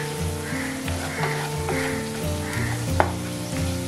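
Prawns fry in a pan for a Kerala prawn roast with curry leaves, producing a constant close sizzle and one sharp clink, with tonal music running underneath.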